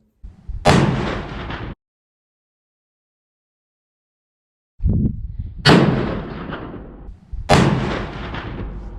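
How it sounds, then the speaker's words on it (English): Three loud rifle reports from Remington Ultimate and CVA Paramount muzzleloaders fired at a range with an uncleaned barrel, each a sharp blast with a long decaying tail, the last two close together after a long pause. "So that was 3 shots from each out of an uncleaned barrel."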